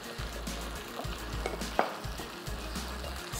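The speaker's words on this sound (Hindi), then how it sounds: "लहसुन अदरक का पेस्ट थोड़ा सा भुन जाए तो उसमें डाल देंगे प्याज का पेस्ट।" Garlic-ginger paste and onion paste fry in a pan with a dense, constant sizzle, broken by a few scraping stirs of a utensil, close and fairly loud.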